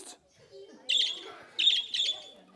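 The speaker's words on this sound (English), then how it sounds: "So the birds are chirping, everybody's happy, filled with love, all right?" Small birds chirp and tweet in several bright bursts, fairly near, with faint speech-like murmur underneath between the calls.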